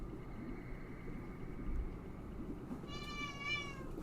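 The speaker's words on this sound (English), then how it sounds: "she meowing loud at you" A cat gives a loud, drawn-out meow near the end, following a low steady hum in the background.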